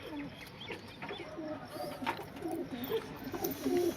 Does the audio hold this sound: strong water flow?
no